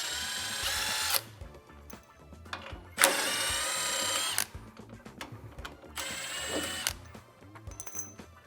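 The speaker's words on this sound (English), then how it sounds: "Again, you can use a socket or an impact." Impact wrench on the 15 mm lower shock bolts of a Silverado ZR2, firing in three sharp bursts of roughly a second each, separated by quieter pauses of clinking and shuffling.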